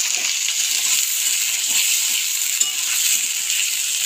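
Potatoes frying in hot oil with a paste of ginger, cumin and green chili, giving a loud, steady, close sizzle with faint stirring clicks and a small metallic tap partway through.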